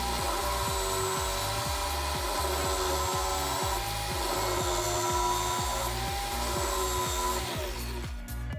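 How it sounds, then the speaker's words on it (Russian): A steady whirring grind of a drill-driven sharpener against an old dull knife blade, continuous and close, with a low rhythmic rumble underneath throughout. "Берем какой-нибудь старый тупой нож и пробуем заточить."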